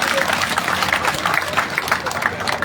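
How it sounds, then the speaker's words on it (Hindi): Audience applause welcoming politician Deepender Hooda at a sit-in protest over the Ahir Regiment demand, a dense continuous patter of many hands clapping from a crowd, steady over a few seconds. "एक बार जोरदार तालियों से उनका स्वागत कीजिए।"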